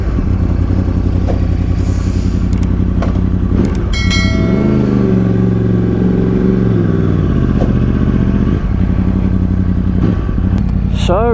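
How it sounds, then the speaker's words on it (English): A 2013 Yamaha R1 motorcycle engine starting cold and idling loud and close, with a steady low throb that swells briefly in pitch in the middle, as if blipped, before settling back, and a few clatters along the way. "That cold start, baby."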